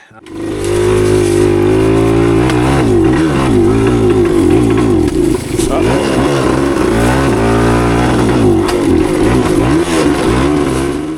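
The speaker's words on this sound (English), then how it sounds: "we're also going to address the stutter that was happening once the engine warmed up and got real hot" A 1976 Kawasaki KE100 two-stroke dirt bike engine revs steadily and loudly up close for about ten seconds, its pitch wavering and dipping in a stumbling, stuttering way as it runs hot.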